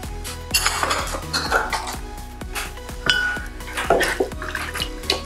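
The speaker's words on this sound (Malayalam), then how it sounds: "അതാണ് ഞാൻ ഒഴിക്കുന്നത്" Leftover masala-grinding water is poured into a pan of Kerala-style pork vindaloo, with clinking of a metal pot and utensils, splashing and a steady low hum throughout.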